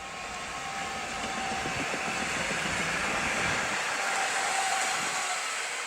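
A Stadler FLIRT passenger train bound for Warszawa Zachodnia rolls past steadily for several seconds, with a broad, even roar of wheels and motors and faint rail clatter, fairly close and without talk.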